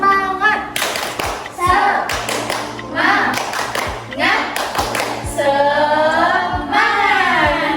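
Children clapping a rhythmic tepuk semangat chant in a classroom, with bursts of sharp, evenly timed claps alternating with loud, close group chanting voices.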